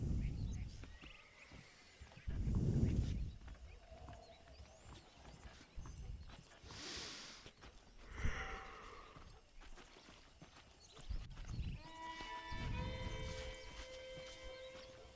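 Saddled horses in the Red Dead Redemption video game, hooves clip-clopping at a walk with snorts and whinnies, fairly faint, among scattered game sounds and a brief melodic cue near the end.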